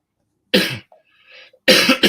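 A single loud, close cough with a quieter throat sound after it, followed by another short burst of coughing. The cougher has a winter cough.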